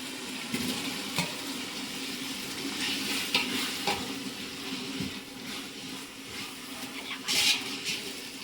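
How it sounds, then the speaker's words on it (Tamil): Tomatoes sautéing in a pan for vegetable biryani cooked over a wood-fired stove, giving a steady sizzle with scattered stirring scrapes and clinks throughout, close and moderately loud with no talking. "தக்காளி நன்றாக வதங்கவும்"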